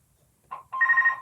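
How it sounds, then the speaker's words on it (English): A phone rings with a short electronic trill, a brief first burst followed by a longer, louder tone, clear and alone in a quiet room. "now my phone's ringing"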